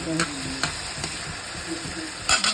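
Chopped tomatoes sautéing in a pan for shrimp paste, a steady close sizzle and hiss with a few stirring scrapes and knocks, brief and alone.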